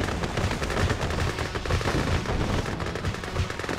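Gunfire from the Red Alert 2 video game as a base comes under attack, a loud sustained barrage of rapid shots and blasts that keeps going without pause through the whole stretch.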